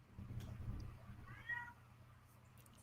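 A female cat yowls in the background of an indoor live stream, one drawn-out, wavering meow rising and falling over low room noise, faint and distant, with no talk.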